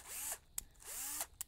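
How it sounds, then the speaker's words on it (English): An older cordless power drill runs on a freshly charged 16.8 V, 3 Ah battery. It gives two steady whirring bursts, each spinning up and winding down, with a short click between them, heard up close. "This is a drill exactly like that one,"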